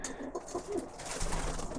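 Birmingham Roller pigeons, many of them cock birds, coo softly in the loft, with several low, overlapping coos close by amid a gentle background murmur.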